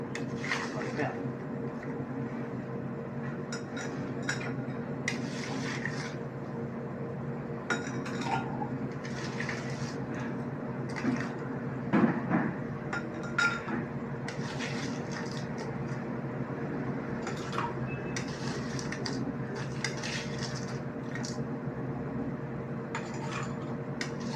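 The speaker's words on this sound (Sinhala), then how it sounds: "ඔය ආකාරයට අයිස් කියුබ් ටිකක් දාගන්නවා" Ice cubes drop into a glass of beetroot juice, a scattered series of small glassy clinks and chinks over a constant background hum.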